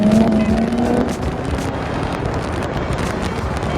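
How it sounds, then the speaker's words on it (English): A Toyota Supra's B58 engine accelerates hard in sport mode with the pedal floored, a loud steady roar and rising tone heard from inside the car, mixed with road and wind noise. "That B58 engine really wakes up once you put that sports button in and put that pedal to the floor."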